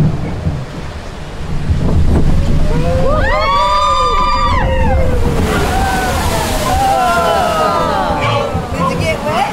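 Water splashes and sloshes around a Disneyland pirate boat ride with a loud rushing surge, while riders shout and exclaim excitedly over the spray.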